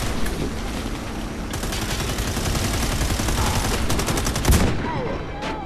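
Rapid automatic gunfire rattles in the online shooter Warface, bursts of dense repeated shots running almost continuously, loud and close, with a brief heavier impact near the end.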